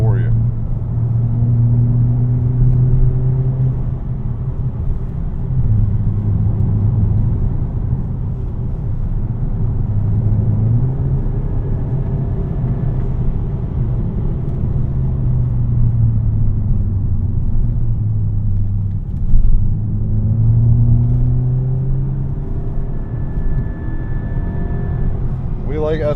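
VW Mk6 Golf GTI with DSG gearbox in sport mode, engine revving toward 6,000 RPM while driving, a steady low drone rising and easing in long sweeps, with a voice talking over it.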